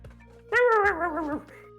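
A human voice imitates a dog barking: one drawn-out, whiny bark-like howl lasting under a second, close and clear against a quiet background.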